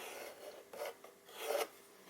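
Eraser rubbing old pencil lines off a wooden board, three short quiet scrubbing strokes with the last one strongest.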